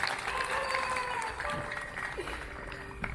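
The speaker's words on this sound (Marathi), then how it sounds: "पुन्हा एकदा जोरदार टाळ्या वाजून आभार मानूयात" Sustained applause from an audience at a district hospital Independence Day celebration, thanking the resident doctors and lecturers; steady clapping fills the whole stretch at moderate loudness with a faint voice or two beneath.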